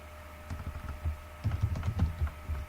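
Keys clatter on a computer keyboard in quick irregular bursts, close and fairly soft, with brief pauses between runs of typing.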